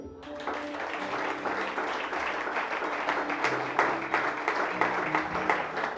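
Sustained applause fills a Sunday church service as the congregation claps together in a dense, steady wash, with louder bursts of clapping near the end and no clear talk over it.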